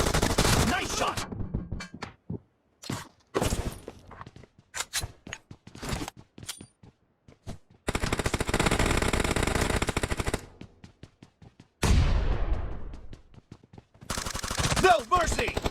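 Gunfire in PUBG Mobile team deathmatch, loud bursts of rapid automatic fire in long sustained volleys broken by single shots and short gaps.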